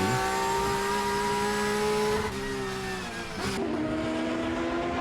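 Porsche GT3 Cup race cars with 3.8-litre engines race at Daytona, including the red number 18 Valvoline car, a loud sustained engine howl that drops in pitch and shifts partway through, then carries on steadily with no voices.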